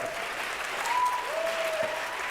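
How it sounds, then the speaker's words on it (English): Audience applause at a live televised debate on the Gaza war, a soft, steady patter of many hands, fairly distant and even across the short stretch. "I'll wait for the applause"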